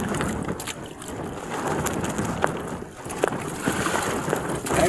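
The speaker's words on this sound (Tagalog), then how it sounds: "Lakas ang hangin." Strong wind buffets the microphone on a small fishing boat at sea near the shore, a loud continuous roar with gusting bursts and water noise underneath.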